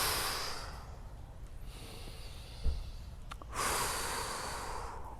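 Steady breathy exhales from someone spinning poi, soft rushing air that swells, fades and returns, with no talking.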